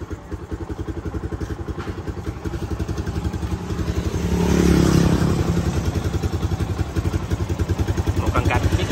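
A used Yamaha Exciter 135 motorcycle idles close by with a steady, rapid putter, rising briefly into a throttle blip near the middle before settling back to an even idle; the engine runs smooth and fairly quiet.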